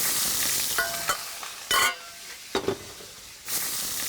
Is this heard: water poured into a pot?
no